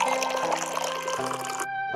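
Water poured into a clay pot in an animated story scene, a steady liquid rush with a rising, filling tone over about two seconds, close and alone.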